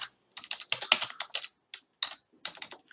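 Quick, crisp keystrokes on a computer keyboard come in uneven bursts with brief pauses, close and clear with no talking.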